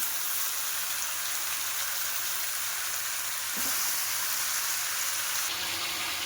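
Tomatoes frying in hot oil in a pan while cooking a mushroom and paneer masala gravy, a steady, close sizzle that holds evenly throughout with a brief clatter partway through.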